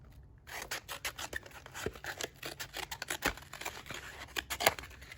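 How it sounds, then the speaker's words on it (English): Blade cutting through a cardboard box, a rapid series of close, scratchy rasping strokes with crisp snaps, no voices. "And then I'm gonna cut the box off from there."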